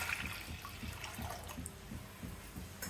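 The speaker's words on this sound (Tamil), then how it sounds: "தண்ணி ஊற்றிக்கலாங்க." Water pours and splashes steadily into a pot of potatoes, being prepared for a Madurai-style masala potato dish, close up and continuous with no talk.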